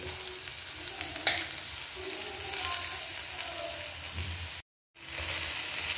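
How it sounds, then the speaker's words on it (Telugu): Oil sizzles and crackles steadily as tempering spices, turmeric and a dried red chili, fry with ivy gourd, a constant hiss with small pops, broken briefly by a moment of silence. "పోపు కూడా మంచిగా వేగిపోతుంది"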